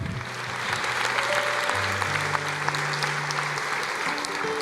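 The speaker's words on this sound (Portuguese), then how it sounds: "Vamos aplaudir o Senhor, porque hoje é dia de salvação" A church congregation claps for the Lord during a salvation service, a steady, dense wall of applause filling the room for the whole stretch, with sustained low organ-like tones running beneath it.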